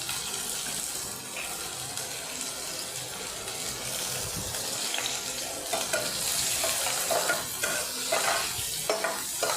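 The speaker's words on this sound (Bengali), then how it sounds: "পেঁয়াজটাকে একটু ভালো করে ভেজে নেব।" Finely chopped onions fry in a hot pan with a loud, continuous sizzle and crackle that swells slightly toward the end, along with occasional scraping from stirring.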